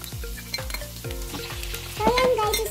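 Onion sautéing in a pan for ginisang bataw, a bright sizzle broken by rhythmic scraping strokes of a utensil, getting louder and hissier near the end.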